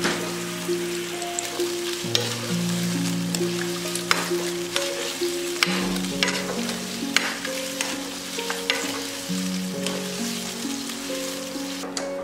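Bitter melon blanches in a pot of boiling water with a spoonful of salt and a little cooking oil, a steady bubbling hiss running throughout beneath tonal background music.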